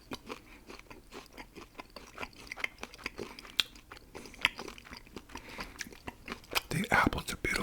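Someone bites into a thick caramel-coated Granny Smith apple and chews it up close, giving sharp crisp crunches followed by a steady run of wet chewing, with a soft whisper heard at times.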